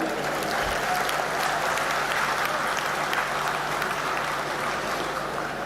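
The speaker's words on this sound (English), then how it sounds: "let's give a big applaud to the women of India" Sustained applause from a large audience at a university convocation ceremony honoring the women of India, a dense steady clapping that holds evenly for about six seconds with no talk over it.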